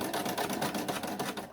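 An Elna 120 sewing machine runs a quick back tack, with a rapid, even mechanical chatter of needle strokes at close range before it stops abruptly.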